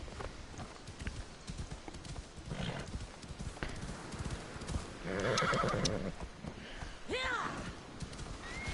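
A horse in a PS4 video game whinnies twice, a long rising-falling neigh midway and a shorter one near the end, over a running clip-clop of hooves, with someone talking intermittently.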